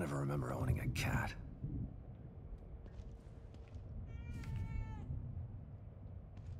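The Evil Within 2 plays a single drawn-out meow from an in-game cat midway through, heard faintly amid dark ambient game sound, with someone speaking at the start.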